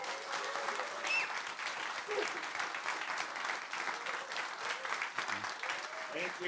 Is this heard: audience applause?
yes